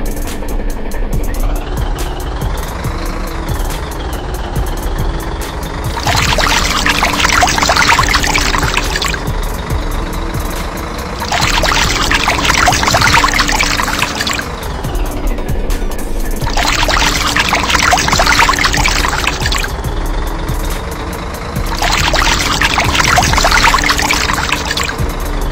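Water jets wash a railway track in a bridge-building simulation game, a broad hissing spray that switches on and off in four long bursts over a constant low engine drone.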